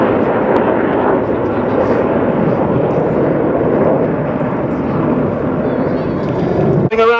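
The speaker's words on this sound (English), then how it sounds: "Red 1 about to bank the formation to the left, changing smoke colour as they go." Red Arrows aerobatic jets flying in formation at an air display at Cosford make a loud, continuous broad roar throughout, ending with a brief sharp change at the end.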